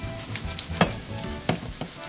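Breaded chicken cutlets coated in Italian breadcrumbs fry in a pan with a steady, close sizzle, broken by a couple of sharper spatters and stirring scrapes.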